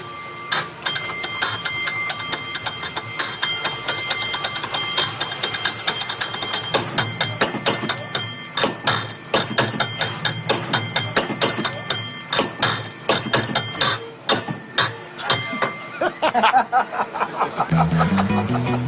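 A cable car bell in San Francisco is rung in quick rhythmic clangs to pick out a little song, bright repeated strikes close by, with laughter and chatter from people around it.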